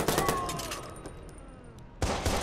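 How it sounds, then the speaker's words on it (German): Video game gunfire from Watch Dogs, a few sharp shots at the start and again near the end around a quieter, echoing lull, heard at moderate loudness with no talking. "Unter Beschuss."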